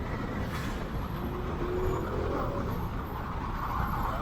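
A low, steady rumble of heavy road traffic on EDSA in Manila, heard from inside a Lalamove delivery vehicle stuck in a jam, constant and muffled with no voices.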